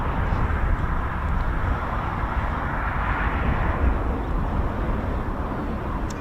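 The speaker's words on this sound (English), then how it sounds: "it looks like the Beechcraft's just coming in now" A Beechcraft aircraft approaching to land at RAF Waddington, heard as a steady, broad engine drone that holds at an even level throughout with no voices.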